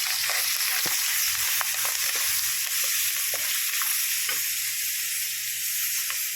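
Onions and curry leaves fry in hot oil with a steady, bright sizzle, and scattered soft clicks of a spoon stir the pan, close up with no talking.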